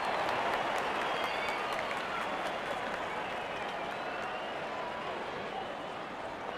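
A stadium crowd in Real Cricket 24 applauds and cheers during a Nepal vs UAE cricket match, a dense, steady wash of clapping that slowly eases off.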